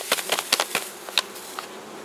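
Bees buzz in short, scattered bursts in cold weather after being fed sugar on the frames, with several faint passes and soft pattering, close by and without talk.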